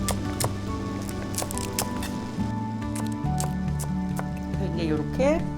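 A kitchen knife slices green onions diagonally, one stalk at a time, for Korean beef radish soup, giving sharp close taps and crunches over steady background music.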